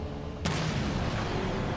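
A single heavy weapon shot in Halo 5 lands as one sharp, booming report over steady low background noise.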